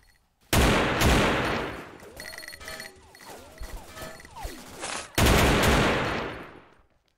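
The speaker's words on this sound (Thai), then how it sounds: "มันแรงมากเนี่ยปืนเนี่ยคือมันแรงจริงๆนั่นแหละแค่เสียงดังยิงยาก" AK rifle fired at a shooting range: two long, loud bursts of rapid gunfire near the start and again later, separated by a quieter stretch of clatter and squeaky mechanical sounds.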